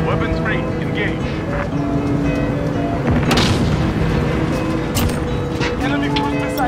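Gunship firing in a Call of Duty game, with heavy booming explosions and rumbling gunfire over a dense, loud battle mix, plus radio-style voice chatter.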